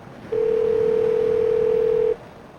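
A steady electronic telephone tone on a screened phone call, one unbroken loud note lasting about two seconds, starting and stopping abruptly over a quiet line hiss.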